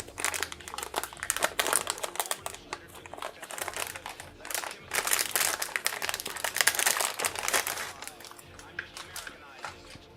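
Plastic foil wrapping on a new SSD being handled while swapping drives in an older laptop, dense close crinkling and crackling in bursts, with someone speaking over it.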